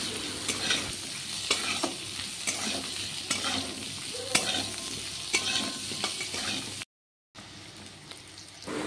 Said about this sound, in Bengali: আলু দেওয়ার পর ভালো মতন করে আলুগুলো ভেজে নিলাম